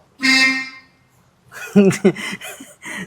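A single short car horn beep sounds nearby, followed by people talking inside the vehicle.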